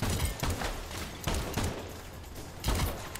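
Revolver six-shooter fire in the crime shooter game Crime Boss: Rockay City, a handful of sharp, loud shots spaced irregularly with quieter mechanical gaps between them and no talking.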